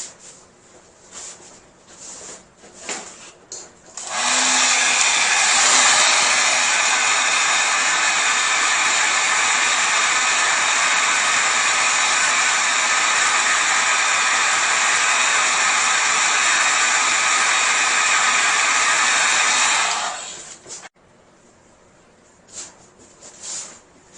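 Compressed air from a nozzle blows across freshly poured resin art, making a loud, steady hiss that rises suddenly, holds for about sixteen seconds and then cuts off, with quieter handling sounds before and after.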